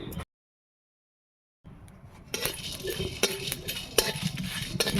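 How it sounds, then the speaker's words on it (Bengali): Cumin seeds and a torn bay leaf are stirred in a pan, with light metallic scraping and ticking clicks starting after a brief silence, soft and close with no talking. "জিরেটা দিয়ে একটু হালকা নেড়ে নামিয়ে নেব।"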